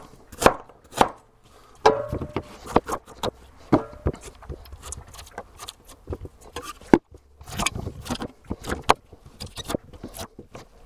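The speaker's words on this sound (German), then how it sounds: "Und das Ganze schneide ich mir jetzt noch ein bisschen kleiner." A knife cuts quinces into smaller pieces on a board, giving irregular close taps and chops with some scraping and rustling between them.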